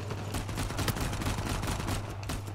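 Shotgun blasts from Uncharted 4 gameplay: dense, loud bursts of gunfire in quick succession over a steady low hum, with no talking.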